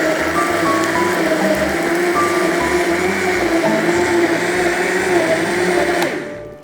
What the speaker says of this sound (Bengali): শরবতটা ব্লেন্ড করে নিচ্ছি।